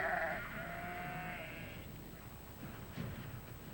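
Sheep bleating on British farmland, with a strong, close bleat at the start that trails off into softer bleats over steady outdoor background noise.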